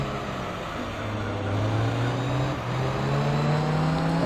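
Dodge Viper race car engine in Gran Turismo 3, a steady droning roar whose pitch climbs slowly as the car accelerates, loud and continuous.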